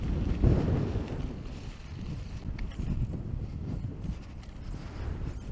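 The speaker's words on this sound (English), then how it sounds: "so windy" Steady low rumbling wind buffets the microphone throughout, a constant roar with no other clear sounds.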